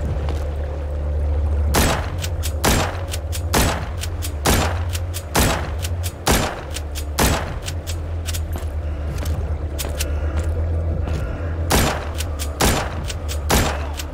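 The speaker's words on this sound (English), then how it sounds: "Let's shoot this staircase." Gunfire aimed at a staircase in The Walking Zombies 2 video game: a long string of loud, sharp single shots spaced roughly every half to one second over a steady low hum.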